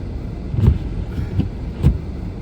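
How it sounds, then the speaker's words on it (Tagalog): Road traffic passes on a snowy winter morning, a steady low rumble of cars with a few louder swells as vehicles go by, no talking. "look at this traffic."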